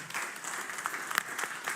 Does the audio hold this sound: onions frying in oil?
no